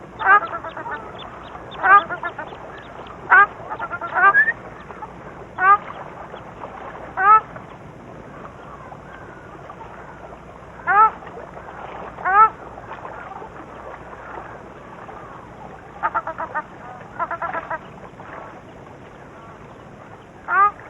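Ruddy shelducks with their young in Ladakh give nasal, honking calls in short irregular bursts, some doubled, spaced a second or two apart over a quiet background.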